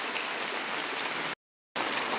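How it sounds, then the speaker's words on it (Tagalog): Heavy rain falls during a flood in the Philippines, giving a steady, loud hiss of downpour that cuts out briefly and then resumes. "So, ulan."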